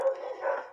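Dogs bark and howl in a drawn-out, strained way in the background of a home where a beanie is being crocheted. The sound is steady and moderately loud, with no talking over it.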